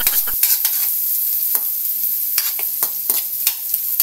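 Garlic and hotdog toast in margarine in a pan, with a loud, close, continuous sizzle broken by repeated quick scraping strokes of a spatula.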